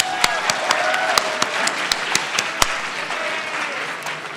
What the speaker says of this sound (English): You should all applaud that we are here